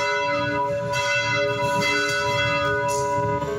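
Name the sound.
cathedral church bells tolling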